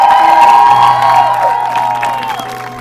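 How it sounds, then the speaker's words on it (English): A graduation audience for a firefighter training program cheers, whoops and claps loudly in a large hall, with steady applause and shouts rising over a sustained tonal hum. "I need to hear y'all clap louder for that."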